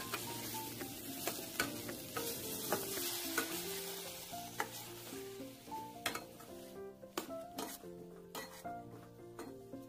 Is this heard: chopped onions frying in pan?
yes